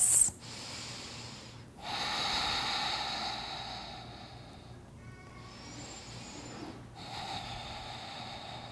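Deep breathing during a yoga bridge pose: slow, airy inhales and exhales close to the microphone, with soft rushing swells separated by brief pauses, quiet and unhurried.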